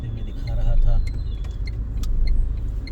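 Road traffic in Whitefield, Bangalore: a steady rumble of idling and creeping cars and other vehicles close by, with scattered small clinks and faint horn-like tones, while someone talks over it.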